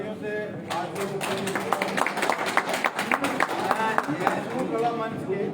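Applause from the audience at a function where a bhajan is released, greeting the chief guest; dense, steady clapping that fills the whole stretch, with a crowd murmuring underneath.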